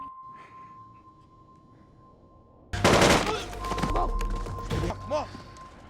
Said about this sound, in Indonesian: lalu Rain menembaknya.